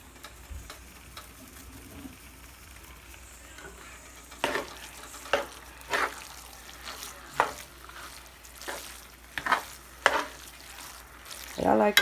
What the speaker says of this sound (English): I'm gonna just toss that in my skillet with my ground meat and my ham mixture